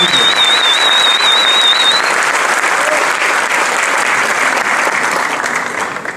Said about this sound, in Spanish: Démosles un aplauso apoteósico a estos niños